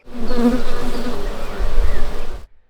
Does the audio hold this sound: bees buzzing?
yes